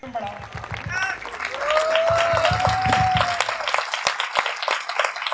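An audience at a Hindi comedy poetry show bursts into loud, sustained applause that swells and holds for several seconds, with a voice heard over the clapping at the start.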